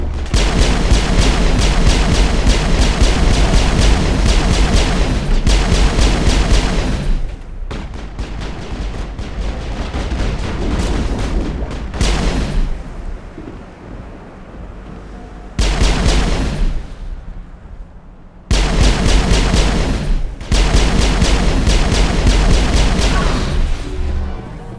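Turret gunfire in the Mass Effect video game booms in long, heavy bursts, loud and close, broken by short quieter pauses before the rapid fire resumes.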